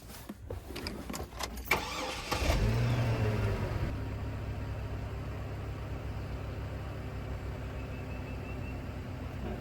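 A 2005 Chevy Trailblazer with a misfire fault (P0300) cranks with rapid clicks and starts, revs briefly, then settles into a steady, even idle, heard close up.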